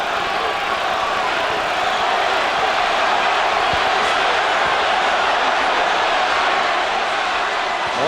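A boxing crowd at the Tommy Morrison versus George Foreman fight roars in a dense, continuous wash of cheering and murmur, loud and sustained throughout.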